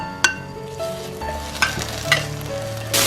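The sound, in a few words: bacon frying in a pan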